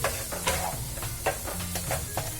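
Besan batter with red chilli powder, cumin and garam masala being stirred in a hot pan, rhythmic scraping strokes over a low, steady sizzle.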